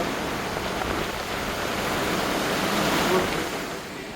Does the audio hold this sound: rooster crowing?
no